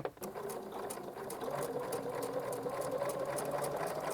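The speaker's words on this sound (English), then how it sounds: "I'm going to be able to let that foot do all the work and stitch right along the edge" A sewing machine with a braiding foot stitches along a fabric edge, giving a close, quiet, rapid rhythmic whir of needle strokes that runs steadily throughout.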